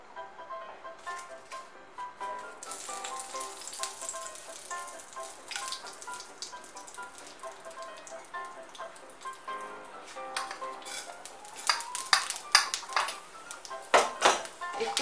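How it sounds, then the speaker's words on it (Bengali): Bay leaf, dried red chilli and panch phoron crackling in hot mustard oil for Bengali masoor dal, a light continuous spitting sizzle with scattered pops and utensil clinks, growing busier toward the end. "তেলটা গরম হলে এর মধ্যে তেজপাতা, শুকনো লঙ্কা আর পাঁচফোড়নটা দিয়ে দেব"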